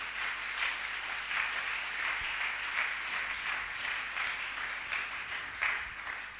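A church congregation applauds in acclamation of the Lord, steady dense clapping from a large crowd continuing throughout, loud and close with no pauses.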